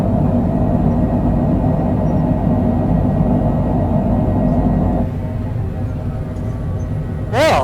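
Airliner thrust reversers roar during a crosswind landing at Duluth in a flight simulator game: a loud, steady, close broadband rumble that eases slightly about two-thirds through, followed by a brief rising whine at the very end.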